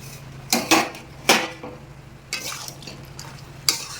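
Chicken kosha cooking in a pot, with sharp metallic clinks and scrapes of a spoon stirring and a pot lid knocking, several distinct close hits over a faint background sizzle, no voices.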